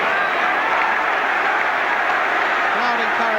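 Football crowd at a Chelsea v QPR match in 1980/81, a steady broad roar of encouragement throughout, with a commentator talking over it.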